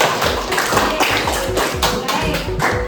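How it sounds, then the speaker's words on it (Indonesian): A group in a training session clapping their hands, a loud, close, slightly uneven patter of many claps that keeps going steadily, with faint voices mixed in. "Ya, tepuk tangan."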